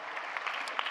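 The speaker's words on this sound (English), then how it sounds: "I'd love a round of applause" Brief, fairly quiet applause from an audience at an education talk on A-level results, a dense, even sound of hands clapping for about a second.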